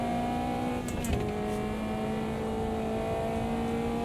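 A Caterham race car in the sim racing game Automobilista 2 holds a high, steady buzzing engine note with a brief dip as if on a gear change, then climbs again, loud and alone without talk.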